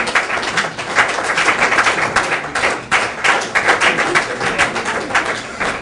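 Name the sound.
audience applauding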